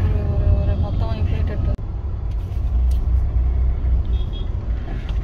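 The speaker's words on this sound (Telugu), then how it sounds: "కోటి ట్రాఫిక్, సుల్తాన్ బజార్ ట్రాఫిక్ ఇది." Inside a Tata Altroz petrol car in Koti, Sultan Bazar city traffic, a low engine and road rumble holds steady with passing vehicle noise and a brief break, while a voice talks over it early on.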